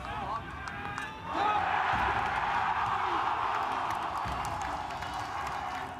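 A golf crowd at the Ryder Cup 2023 cheers and applauds after Rahm's tee shot on the 7th hole, a broad swell that rises suddenly and then holds steadily, heard at a distance with some talk mixed in.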